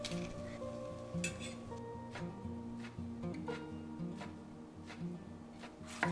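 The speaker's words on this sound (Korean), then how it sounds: "애호박도 얇게 썰어서 기름에 볶아주고요." Thinly sliced zucchini stir-frying in oil for Korean janchi guksu garnish, a steady close sizzle with occasional stirring scrapes and light pan clinks throughout.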